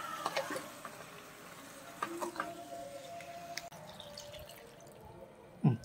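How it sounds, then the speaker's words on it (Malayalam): Thin second-press coconut milk is poured into a duck mappas curry, giving soft liquid trickling and dripping sounds with a few brief splashes, fairly quiet and with no talk. "രണ്ടാം പാൽ ആദ്യമേ ഒഴിക്കുക."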